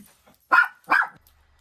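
A dog barks twice in quick succession, sharp and fairly close, with near silence around the barks.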